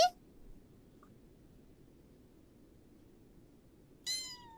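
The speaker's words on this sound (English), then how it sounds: "Oh, I love the kitties." Two short cat meows in a video game, one at the start and one near the end, separated by a quiet stretch of low background hum.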